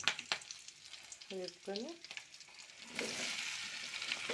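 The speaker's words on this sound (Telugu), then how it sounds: "ఆయిల్ మూకుడు పెట్టుకొని ఆయిల్ పోసుకొని దాంట్లో తాలింపు గింజలు వేసుకోవాలి. అవి వేగుతూ ఉంటాయి." Tempering seeds fry in hot oil in a pan, a steady hiss that swells louder near the end, with a few light clicks and a brief voice speaking over it.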